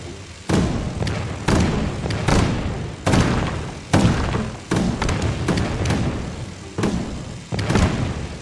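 Tank cannon shots in the Clubhouse Games Battle Tanks minigame, around a dozen sharp thudding booms at irregular intervals, each trailing off before the next, loud and up close with no talk.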